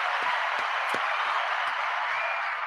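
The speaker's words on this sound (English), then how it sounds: "We're gonna give a round of applause," Loud, dense applause from a crowd, steady hand clapping throughout with a few louder individual claps standing out.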